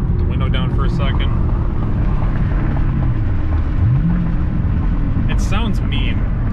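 A Roush Stage 3 Mustang Blackjack Edition rumbles deep and low as it is driven, with rev blips rising and falling during downshifts, and a voice is briefly heard over the engine.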